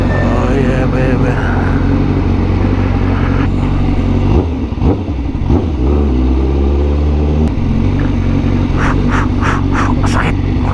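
A sports bike engine roars loudly and continuously during a ride on open roads near Marikina and Masinag. Its rough, revving drone swells and shifts pitch under heavy wind noise, with no talking.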